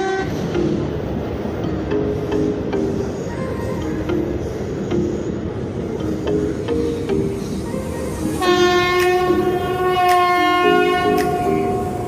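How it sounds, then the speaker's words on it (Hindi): A local train in Chennai approaches loudly with a rising rumble of wheels on track, then a long blaring horn blast sounds near the end, close and dominant. "देखिए इधर से ट्रेन आ रही है, बहुत ज़ोरों से आवाज़ कर रही है"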